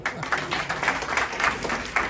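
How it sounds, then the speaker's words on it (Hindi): Audience clapping for a participant at a talk on edible oils, a steady patter of hands filling the room with scattered bursts, moderately loud and continuous throughout. "भाई साहब के लिए ताली बजाएंगे"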